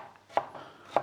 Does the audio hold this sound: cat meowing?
no